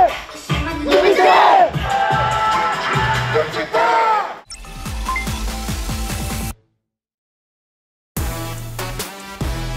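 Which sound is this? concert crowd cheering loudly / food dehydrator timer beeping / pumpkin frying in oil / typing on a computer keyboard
concert crowd cheering loudly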